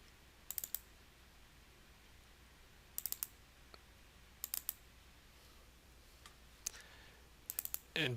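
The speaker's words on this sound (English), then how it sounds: "And you should be able to just double click on it." Computer mouse clicks in a quiet room, sharp paired taps recurring every couple of seconds, faint and close with no voices.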